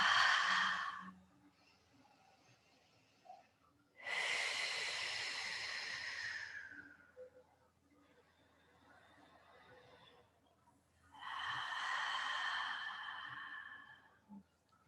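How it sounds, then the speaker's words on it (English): Deep breathing during a guided relaxation class: slow, loud exhales through the mouth in three long rushes, separated by quieter inhalations through the nose. "let's just take a few deep breaths in through our nose and out through our mouths"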